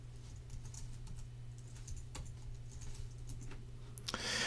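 A name is typed on a computer keyboard in quick, irregular key clicks, fairly faint against a low steady hum, ending in a short burst of louder clatter.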